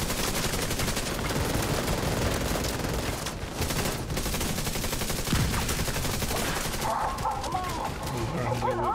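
Sustained rapid gunfire from The Division 2 Wall Street mission, dense overlapping automatic bursts continuing throughout, loud and close, with game sounds shifting near the end.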